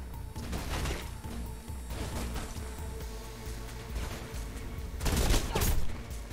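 Bursts of gunfire in the video game Mirror's Edge crackle in rapid volleys under game noise, with a louder, denser flurry of shots toward the end.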